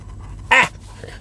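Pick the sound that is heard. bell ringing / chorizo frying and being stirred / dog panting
dog panting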